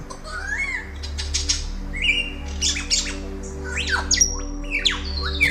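Calls of a beautiful long-tailed mimicking bird in the forest: a run of varied whistles, squawks and sharp chirps at close range, with some wing flutter and steady low background hum, no voices.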